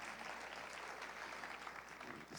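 A church congregation applauds during a worship service. The clapping is faint and distant, a dense, even wash of hands with no single claps standing out.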